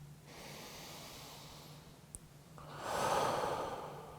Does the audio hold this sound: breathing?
yes